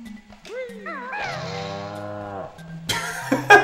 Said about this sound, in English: A cow sound.